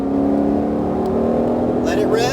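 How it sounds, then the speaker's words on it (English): A Mustang Shelby GT500 on a racetrack holds a loud, steady engine drone at high revs, its tone climbing slightly near the end, with a faint voice beneath the roar. "Roll your foot to the floor. Let it rev."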